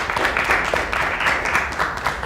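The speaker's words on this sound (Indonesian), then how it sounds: "Tepuk tangan untuk kita semua." Students in an Indonesian school classroom clap together, a brief burst of dense, steady applause that fills the room for a couple of seconds with no talking over it.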